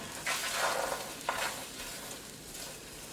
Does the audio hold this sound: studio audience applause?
no